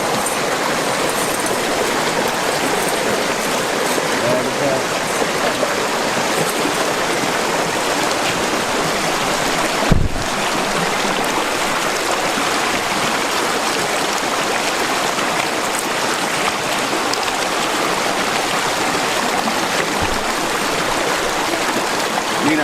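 A flowing mountain river stream in the Sierra Nevada of California rushes steadily and fairly loudly throughout, a constant broadband wash of water with one brief thump partway through.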